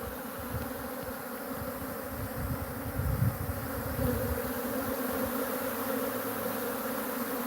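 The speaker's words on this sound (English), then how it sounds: "Get a swarm that decides to move in." A swarm of African honey bees moving into an empty hive box, a dense continuous buzzing drone, loud and close, steady throughout with no voices.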